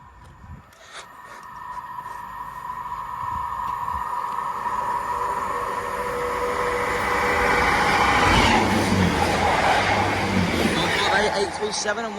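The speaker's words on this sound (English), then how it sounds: "Got a pair of Transport for Wales 158s preparing to pass through." A pair of Transport for Wales class 158 diesel trains pass through Shotton station, a rumbling roar that builds steadily and peaks near the end, with a voice talking over the start.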